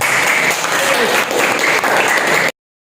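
A class of students claps together after a correct answer, with dense, lively applause for a couple of seconds that then cuts off abruptly.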